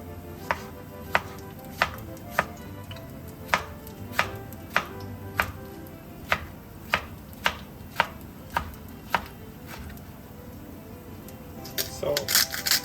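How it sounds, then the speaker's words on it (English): A knife chops a tomato on a cutting board in sharp, distinct knocks, about fourteen spaced irregularly, close and clear, then a quick flurry of cuts at the end, with a voice talking intermittently. "Cut up our nice tomato."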